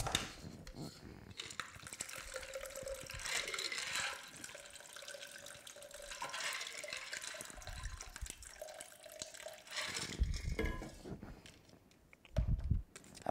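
A drink is poured into a cup at a home crafting table: a steady, trickling liquid stream runs for several seconds, faint and close, with small clinks near the end.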